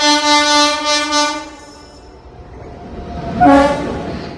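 The Kannur–Alappuzha Executive Express sounds its horn in the Kannur railway yard during shunting, a loud, pulsing blast followed by a quieter gap and then a second shorter, nearby blast.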